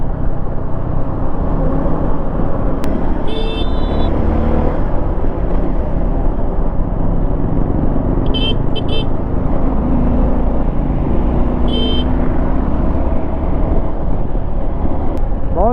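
Dense, steady road and traffic noise from riding an adventure motorcycle, a Hero Xpulse 210 or Suzuki V-Strom 250, through city streets, with a few short horn toots from nearby vehicles standing out over the continuous rumble.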